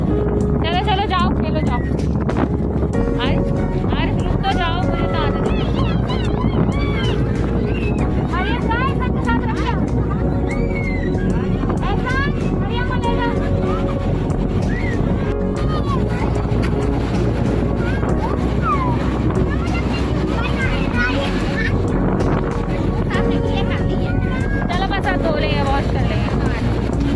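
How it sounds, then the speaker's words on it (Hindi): Strong wind at the beach buffeting the microphone with a constant roar, people talking and calling out over it outdoors. "हवा भी बहुत ज़्यादा चल रही है।"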